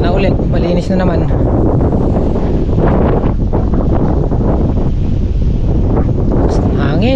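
Strong gusts of wind buffet the microphone outdoors at a bitter gourd farm, a loud continuous roar with rumbling surges and a person speaking under it.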